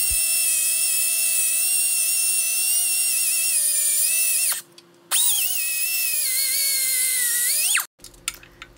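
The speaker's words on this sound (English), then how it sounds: "time to grab the Whizzy wheel." A high-speed cut-off wheel grinding through bolts on a Cadillac 500 engine, a loud sustained whine that drops in pitch under load, stops briefly, then spins up again and cuts until it winds down.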